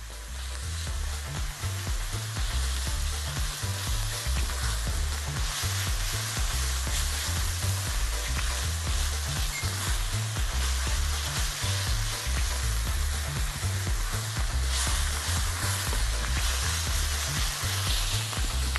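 Onions and garlic sizzle steadily in ghee, a loud, continuous frying hiss with occasional stirring scrapes, as stock goes in for a meat, eggplant and potato dish.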